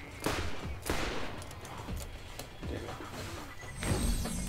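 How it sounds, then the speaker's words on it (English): Gunfire in Borderlands, scattered loud shots and bursts with impacts and a whoosh, fairly close, a busy firefight without talk in between. "Who's shooting me?"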